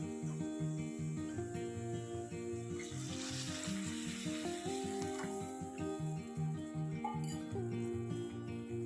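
Crab masala sizzles as boiled water is poured into the frying spices, a steady hiss and crackle running under loud, continuous background music.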